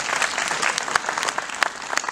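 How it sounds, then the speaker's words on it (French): Audience applause for musicians at a guitar concert in Montreuil-Bellay, a lively, dense clatter of many hands with crisp individual claps popping through. "n'ayez pas peur d'applaudir"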